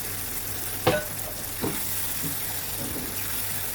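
Eggplant sauce with curry powder, salt and a stock cube sizzles and fries steadily in a pot, with a few sharp stirring clatters over the continuous hiss.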